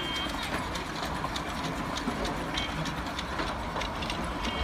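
A train rolls by with a rhythmic clickety-clack of wheels over rail joints, steady and moderately loud under a continuous rumble, used as a sound effect in a children's phonics song.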